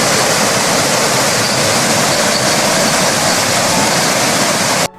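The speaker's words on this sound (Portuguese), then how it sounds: "como o estrondo de muitas águas" A dense roar of many waters, like a big waterfall, fills the whole stretch as a loud, steady wash of broadband rushing that cuts off abruptly at the very end.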